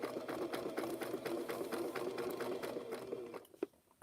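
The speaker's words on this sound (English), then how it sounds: "I think that sewing machine was called a Bradford" A Bradford sewing machine runs close by in a steady rapid rhythm of needle strokes over a low motor whir, then slows and stops near the end with a couple of faint clicks.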